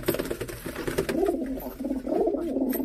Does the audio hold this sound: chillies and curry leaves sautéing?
no